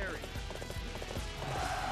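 Hooves of a horse galloping in the Dynasty Warriors 8 Xtreme Legends video game, a fast, steady clatter mixed with battle noise and game sound effects, with a player talking over it.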